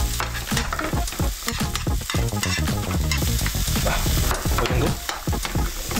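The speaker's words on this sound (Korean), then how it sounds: "라드로 당근을 이제 말랑말랑하게 만들어줄 거예요" Carrots fry in lard in a pan for a Russian-style fried rice, with loud crackling sizzle and repeated scraping stirs of a utensil against the pan, close up; a voice speaks briefly.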